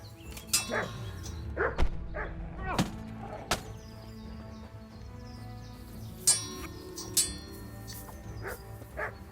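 A dog barks intermittently in the medieval video game Kingdom Come: Deliverance, with several sharp, fairly close barks and yips spread over a low ambient game background.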